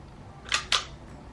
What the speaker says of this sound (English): On the side here is the shutter, and yes, it will sound like you didn't even take a picture.